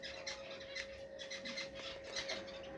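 Pet birds kept in cages chirp faintly and repeatedly at some distance, short tweets scattered over a steady low background hum, with no one talking.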